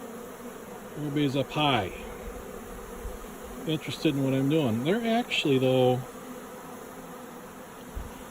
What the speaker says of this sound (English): Ooh, a lot of bees.